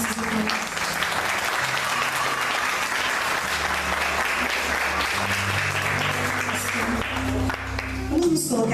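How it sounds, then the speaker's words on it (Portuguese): Steady, dense applause from a church congregation fills the space, sustained clapping continuing throughout with low organ or keyboard tones underneath. "Irmãos, uma salva de palmas,"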